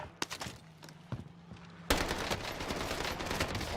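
Rapid automatic gunfire from the Warzone video game, a few sparse shots at first, then a sudden loud, sustained burst of overlapping fire with no talk.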